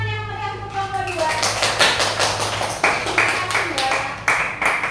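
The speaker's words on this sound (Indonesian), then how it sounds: "Tepuk tangan yang meriah untuk kelompok 2" A classroom group claps for presenters, a scattered, uneven patter of hand claps starting after a brief voice, with a few louder sharp claps near the end and a steady electrical hum beneath.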